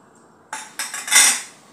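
A spoon clinks and scrapes in a bowl while grated potato is mixed with salt, chili flakes, black pepper and oregano, giving a few quick close metallic taps followed by a brighter rasping scrape, with no talking.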